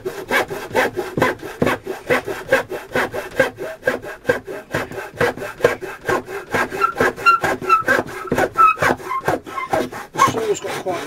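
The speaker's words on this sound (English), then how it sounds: "I'm watching the saw as I'm going through and watching it cutting on" Hand saw cutting through wood while building a pom pom blanket loom, a steady rhythmic back-and-forth rasping of many strokes, close and loud throughout.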